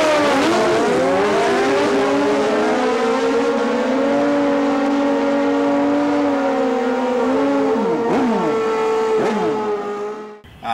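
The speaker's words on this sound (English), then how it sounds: "This is my 1997 Suzuki Bandit" A 1997 Suzuki Bandit street-legal drag motorcycle built for seven-second quarter miles revs close and loud. Its engine note sweeps up, holds a sustained high drone, then swings through several rev changes before cutting off abruptly.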